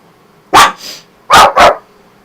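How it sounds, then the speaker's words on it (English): A dog outside barks three times, one bark followed by a quick pair, loud and fairly close, with quiet pauses between. "there's a dog outside barking"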